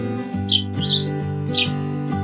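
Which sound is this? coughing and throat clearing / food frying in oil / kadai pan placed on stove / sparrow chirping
sparrow chirping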